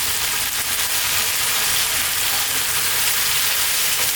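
Lamb siga tibs with a little chopped tomato sizzles on high heat, a loud, dense, even hiss filling the whole stretch with no talk.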